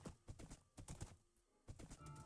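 Hoofbeats and a whinny from a horse in the Minecraft video game, a few quick clip-clop bursts at close range with short gaps between them and no talking.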